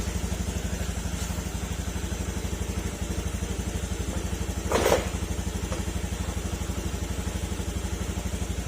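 Honda Beat FI scooter engine idling close by with a steady rapid pulse, roughening into an uneven misfire with a brief louder stumble midway, then settling back to a choppy idle.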